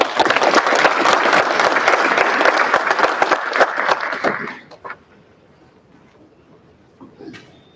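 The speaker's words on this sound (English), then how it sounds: "So let's give Laura a round of applause." Audience applause at a university awards ceremony honoring an outstanding senior in communication studies, dense clapping for about four and a half seconds that then stops abruptly, leaving a quiet room with a few faint sounds.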